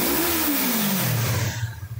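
A Yamaha MT-25 motorcycle engine, a used bike with a past fall, blips hard and then drops back toward idle, one loud close rev that sweeps up and falls away.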